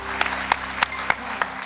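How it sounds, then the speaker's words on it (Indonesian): Scattered audience applause at an Indonesian talk show, heard as a handful of sharp, separate claps spaced across a short moment rather than a full ovation. "tepuk tangan sekali lagi"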